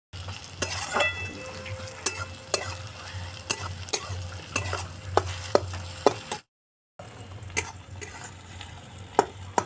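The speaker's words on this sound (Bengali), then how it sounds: "পেঁয়াজটা লাল লাল করে ভাজা হয়ে গেছে, নরমও হয়ে গেছে।" Onions sizzle and fry in oil in a pan while a spoon stirs them, with repeated sharp scraping clicks over a steady hiss and a brief gap of silence partway through.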